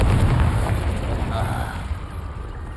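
A Confringo spell explosion in Hogwarts Legacy lands as a deep, rumbling blast that is loudest at the start and slowly fades away over a couple of seconds.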